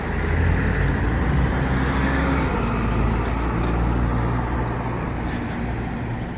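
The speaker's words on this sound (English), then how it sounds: "It's one of the city buses." A city bus moves through busy New York City street traffic in Queens, a dense, steady roar of engines and road rumble that holds loud and close throughout with no talking.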